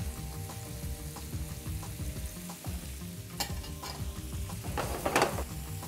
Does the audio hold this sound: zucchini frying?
yes